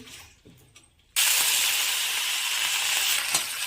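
Ghee heats in a kadhai on a medium gas flame: after a few quiet knocks, a sudden steady hiss and sizzle starts and carries on evenly, close up and with no talking.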